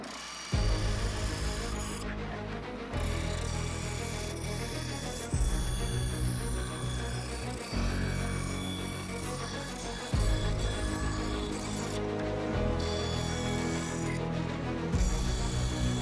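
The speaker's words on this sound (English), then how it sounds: "I'm gonna head to the miter sled real quick, cut this out." Wood is cut on a miter sled at a saw, several loud passes of a droning, buzzing blade, with short gaps between cuts and a harsh rasp as the wood feeds through.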